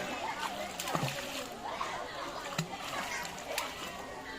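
A young child splashes while swimming, with uneven slaps and sloshing water near the listener and adults talking over it throughout.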